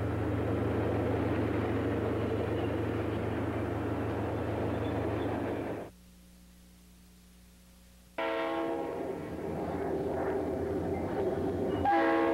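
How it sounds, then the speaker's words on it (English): A northbound diesel freight train led by GP40-2 and GP40 locomotives crosses the Little River Canal in Florida, rumbling steadily before a brief quieter gap, then the horn sounds with tonal blasts near the end. "GP 40-2 number 423 and GP 40 number 409 bringing northbound out of the curve and over the Little River Canal"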